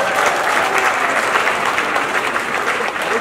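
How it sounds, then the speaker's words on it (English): Audience applause at a Felabration event, loud sustained clapping from a large crowd with a few faint voices mixed in, holding steady throughout. "You guys should clap for yourselves"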